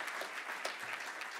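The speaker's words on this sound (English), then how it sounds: "Give them a big round of applause." Faint, brief applause from an audience at a California Hall of Fame induction ceremony, a soft patter of scattered clapping heard from a distance.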